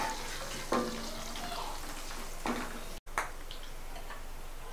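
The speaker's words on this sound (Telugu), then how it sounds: "ఈ కరివేపాకు కూడా కొంచెం వేగనివ్వాలి" Curry leaves frying with garlic and onion pieces for an Andhra egg pulusu give a steady close sizzle, broken by a few louder crackles and ticks as they spit in the hot oil.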